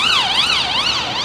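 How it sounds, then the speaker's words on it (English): A passing emergency siren wailing up and down in a steady, rising-and-falling sweep, loud and close, with no voices over it. "as the sirens go by,"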